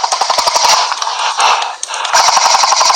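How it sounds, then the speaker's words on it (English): Airsoft gunfire in a close-quarters game, with loud rapid bursts of snapping shots and dense clattering impacts from rounds striking a target, nearly continuous and close. "Moving, I can hear rounds hitting that."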